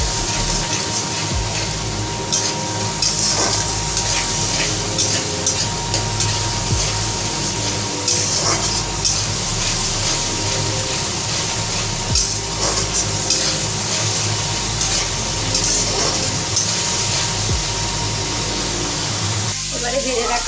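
Fish curry with ginger garlic paste and salt fries in a pan, giving a continuous sizzle with occasional stirring scrapes and clatter, steady and close, while a voice talks over the cooking.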